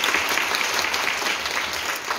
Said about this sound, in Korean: 박수 크게